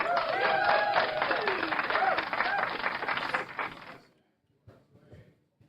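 Audience applause at a snooker championship match, a dense steady round of clapping that fills the room for about four seconds and then cuts off, followed by faint murmurs.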